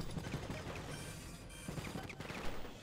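Rapid bursts of gunfire from the video game Enter The Matrix, a dense, steady clatter of shots running throughout without any talk.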